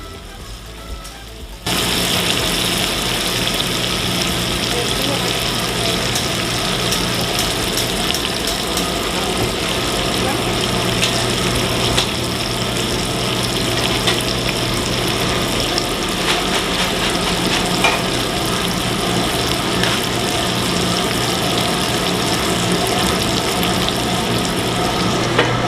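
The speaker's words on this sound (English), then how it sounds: "just that sizzle, that bang, just listen to it go." Fajitas sizzling in a restaurant kitchen, a steady loud hiss and crackle of frying that starts abruptly and continues without a break, close and dense.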